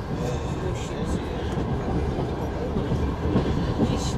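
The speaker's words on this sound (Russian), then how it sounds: "Сидим в поезде." Passenger train running on rails, heard from inside the carriage: a steady, loud low rumble with faint rhythmic wheel clacks, and people talking quietly in the background.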